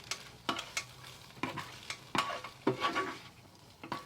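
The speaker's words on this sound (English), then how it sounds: "Give that a good mix." Noodles with a pinch of red chili powder being stirred in a multicooker, a string of soft scraping and clacking strokes against the pot over a low sizzle, close and fairly quiet.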